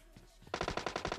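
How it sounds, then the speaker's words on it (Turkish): Rapid automatic gunfire from an AKM rifle in the mobile battle-royale game PUBG Mobile, a quick run of sharp, evenly spaced loud shots starting after a brief quiet lead-in. "Çok sıkıyorlar, çok."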